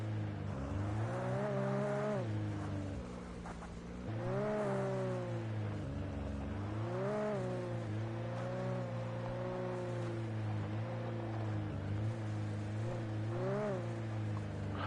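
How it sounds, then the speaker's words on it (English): A car's engine droning steadily while driving in the video game Alan Wake Remastered, with rising and falling revs, and rain or road noise underneath, fairly quiet and continuous. "Oh, I'm actually driving."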